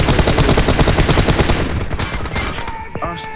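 Loud, dense bursts of rapid gunfire in a squad-based shooter video game, close and continuous before tapering into scattered shots, with no talking.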